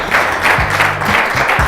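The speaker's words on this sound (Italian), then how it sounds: "Un applauso." Applause breaks out at an outdoor cyclocross race event, dense clapping that is close and loud, with bursts of voices and low tones underneath.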